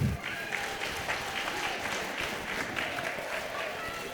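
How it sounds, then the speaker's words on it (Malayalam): An audience at a school annual day claps steadily, a dense, even wash of applause from a large crowd that holds throughout at moderate loudness. "എല്ലാവർക്കും ഒരു നല്ല കയ്യടി കൊടുക്കണം."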